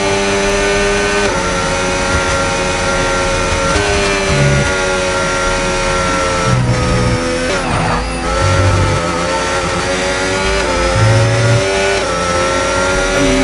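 Race cars in the F1 25 video game roar around Silverstone in a continuous loud engine drone, with revs rising and falling as cars pass close by, and no talk over it.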